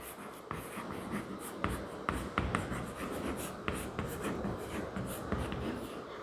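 Pen scratching steadily across paper while working notes are written out for a share-issue accounting problem, close and continuous with small taps and strokes, no talk.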